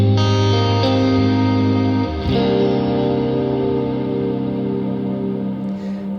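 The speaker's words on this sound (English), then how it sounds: "Just a really nice, very natural, very wide decaying reverb" Guitar tones pass through a reverb pedal with a long, wide, natural decay, sustained chords ringing and fading smoothly with a shimmering wash.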